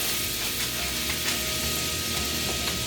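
Sticks of butter melting in a preheated pan give a dense, unbroken hiss and crackle, steady and close throughout.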